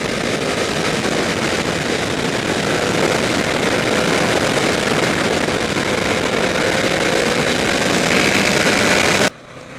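Loud, steady engine drone from a 2014 Honda VFR800F V4 VTEC motorcycle on the road, mixed with wind rush. It holds a fairly even pitch and cuts off abruptly at the end.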